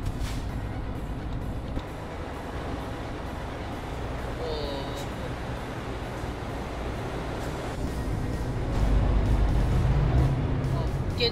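Steady rumble of road traffic and engines in Euro Truck Simulator 2 on a run from Istanbul to Edirne, a continuous droning hum with a louder low swell near the end.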